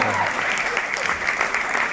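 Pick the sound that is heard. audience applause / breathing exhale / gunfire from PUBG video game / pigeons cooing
audience applause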